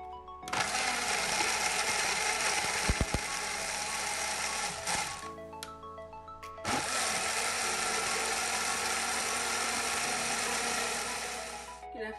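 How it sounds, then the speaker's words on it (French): A kitchen blender whirs loudly to purée a mustard marinade for chicken made with added water, running in two long continuous bursts with a short pause between them. "Et enfin, un peu d'eau. Je vais ensuite mixer."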